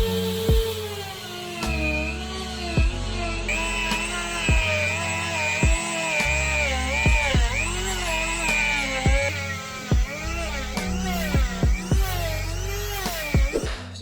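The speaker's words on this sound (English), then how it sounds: "I think the motor's gonna burn out on this little Dremel tool" A small Dremel rotary tool scrapes seam sealer off a BMW E36 engine bay, its high motor whine wavering in pitch under load, close and steady, punctuated by frequent sharp ticks and knocks as the bit catches the surface.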